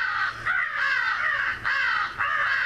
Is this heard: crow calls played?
yes